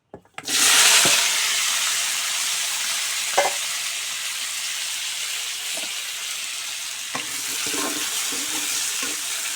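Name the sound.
taro root and green banana frying in oil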